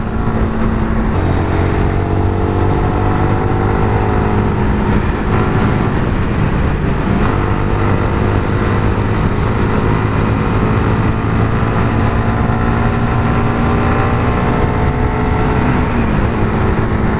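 Yamaha NVX or Honda RS150 motorcycle engine revving steadily on a test ride, a loud continuous drone with shifting pitch and wind rush throughout, no voices.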